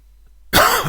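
After near silence, a single harsh cough bursts out close to the microphone.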